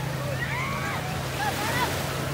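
Ocean waves rolling onto a beach on Independence Day, a steady wash of surf with wind buffeting the microphone and faint distant voices underneath.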